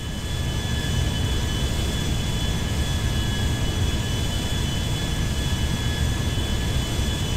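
An Embraer E175-E2 jet airliner touches down in GTA 5, its engines giving a steady, loud, broadband roar that holds level for several seconds with no voices over it.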